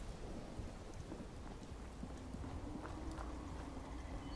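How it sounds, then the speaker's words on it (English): Steady rain falling in the post-apocalyptic video game Fallout 76, a constant dense hiss with faint rumbles and scattered patters throughout, no speech. "there's no action here, and it's raining, which is great"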